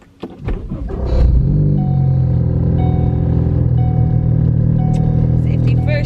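A car engine of a 400+ wheel-horsepower car cranks and catches, then settles into a steady low rumble with a slight rev, close by, with some clicks and faint speech, in a parking lot.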